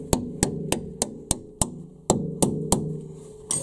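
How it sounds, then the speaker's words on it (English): A hammer drives a suspension bolt through the fork into the lower control arm of a Honda CRX. About ten sharp, ringing metallic strikes land at a steady, slightly uneven pace, loud and close, with no talking. "You can just get a hammer."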